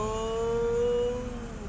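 Motorcycle engine running steadily while shifting up from second gear, a sustained tonal whine that holds briefly and then drops slightly, with a low rumble underneath.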